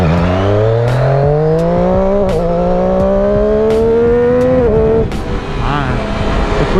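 A 2015 Triumph Daytona 675R motorcycle engine drones loud and close, its pitch climbing steadily as the bike rides through a slow turning-radius manoeuvre, then it eases off near the end.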